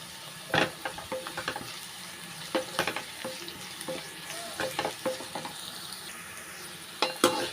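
Okra frying in oil in a kadai, with soft continuous sizzling broken by a few sharp clatters of a spoon stirring against the pan, close and fairly quiet, no voices.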